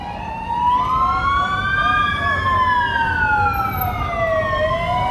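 Emergency vehicle sirens from fire brigades and ambulances wail continuously, a loud rising and falling tone sweeping through the whole stretch, with traffic rumble underneath.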